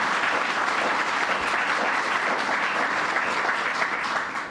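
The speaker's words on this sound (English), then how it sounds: "Let's give her another round of applause." Loud, dense audience applause fills a government announcement event, a continuous roar of many hands clapping together without letup before easing off at the end.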